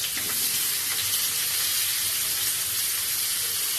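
Chopped onion with whole bay leaf and dried chilli frying in oil for a home-style chicken curry, a steady, loud, dense sizzle that holds unbroken throughout, with no voices.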